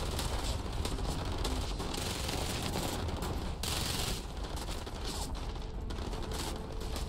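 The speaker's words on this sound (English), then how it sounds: "they're getting into a massive firefight" A massive firefight rages in Starfield as dense, rapid bursts of automatic gunfire crackle continuously from mid-distance, layered into a busy, loud battle wash with no pauses.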